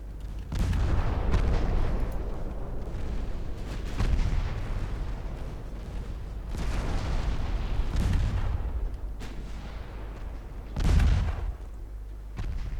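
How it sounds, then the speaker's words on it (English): Main guns of a warship in Ultimate Admiral: Dreadnoughts, Norwegian campaign 1954, firing in several heavy booming salvos spaced a few seconds apart, each with a deep rumbling tail, loud and with no talk. "let's cease fire with the main guns"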